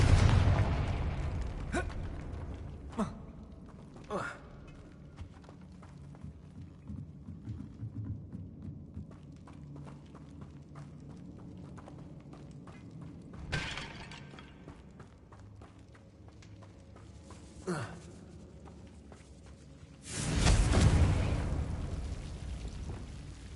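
Confringo spell explosion in the video game Hogwarts Legacy, a loud burst with a rumbling tail near the end, preceded by scattered clicks, pops and mechanical knocks at varying loudness.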